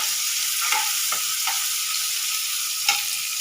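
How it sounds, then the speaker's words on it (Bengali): Potatoes with a little salt sizzle loudly and steadily in a frying pan, broken by three or four brief scrapes of stirring, close up, with no voices. "নুন দিয়ে একটু নেড়ে নিলাম।"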